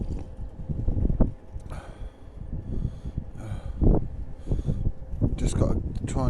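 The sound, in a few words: strong wind on a rooftop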